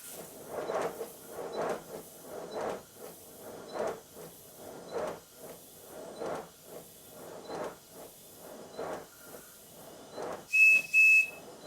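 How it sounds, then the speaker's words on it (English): Repeated short hissing puffs in a steady rhythm from a model steam locomotive running on low steam pressure, ending with a brief high whistle blast near the end. "I keep blowing the whistle to show you that it's running on low pressure"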